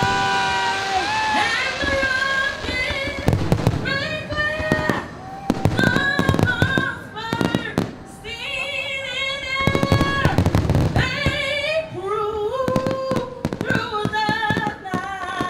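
Fourth of July fireworks at Deerfield Beach in South Florida burst in dense, continuous volleys of cracks and booms over the full span, loud and close, with whistling rises and an excited crowd talking and cheering throughout.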